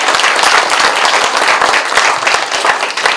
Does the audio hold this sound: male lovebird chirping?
no